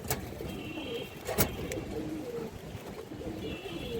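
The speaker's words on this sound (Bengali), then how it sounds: "খুব সুন্দর একটা মাদি কবুতর এবং খুবই চঞ্চল একটা মাদি দর্শক" A female Indian Highflyer Kaldam pigeon coos repeatedly in soft, low rhythmic phrases, with faint background noise and a few sharp knocks.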